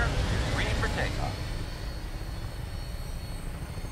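An aircraft taking off in a video game, with a steady loud engine drone and low rumble throughout, while brief voice fragments sound over it early on.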